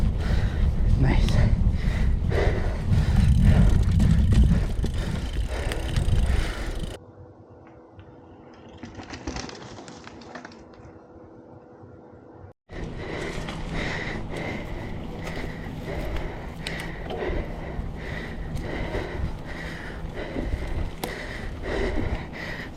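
A Canyon Grand Canyon 5 mountain bike rolls through tight S turns, giving steady rushing wind and tire noise. It drops to a quieter stretch midway, then the loud, continuous riding noise returns.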